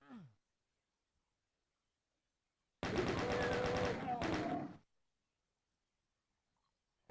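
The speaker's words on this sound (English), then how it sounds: "Nothing I like more than a lot of rapid fire capability." A burst of rapid machine gun fire in the video game DOOM, loud and sustained for about two seconds and then cut off, with quiet before and after.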